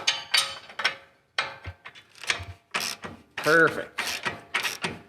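A wrench is turned by hand on a control arm bolt, giving close, uneven ratcheting clicks and metallic scrapes in short bursts. A voice speaks briefly among them.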